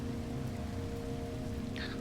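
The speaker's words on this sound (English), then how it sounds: "And here comes the rain again." Steady rain hisses on an acidic tempest planet in No Man's Sky, a dense, even wash of noise over a low hum, with a brief higher tone near the end.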